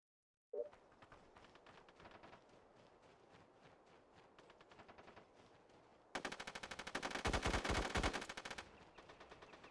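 Gunfire in SOCOM Combined Assault: a sharp opening shot, then a quieter stretch of rapid automatic fire, then a louder, dense burst of machine-gun fire before it cuts back down. No voices.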